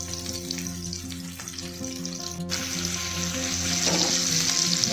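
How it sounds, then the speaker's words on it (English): Marinated mackerel fries in a pan of hot oil, a steady broad sizzle that holds throughout and grows a little louder toward the end, with faint clinks and a low background hum. "Place the marinated fish into the hot oil."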